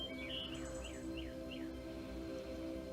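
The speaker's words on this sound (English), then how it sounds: "birds leading the chorus." Faint bird chirps and short descending calls rise outdoors for a second or so over a steady low hum, distant and soft, then fade into the background drone.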